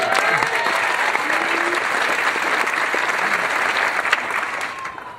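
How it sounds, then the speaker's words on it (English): Applause from the audience at a class of 2016 college commencement ceremony, a steady wash of clapping from a large crowd that carries on evenly throughout with a few scattered shouts. "Round of applause for that."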